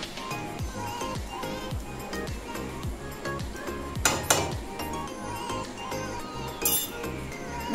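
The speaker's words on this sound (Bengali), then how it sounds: "হাত দিয়েই মাখিয়ে নিচ্ছি" Soya chunks being mixed by hand with cornflour, flour and tomato sauce in a bowl, giving repeated soft clinks and scrapes against the dish with a couple of louder knocks, close and steady.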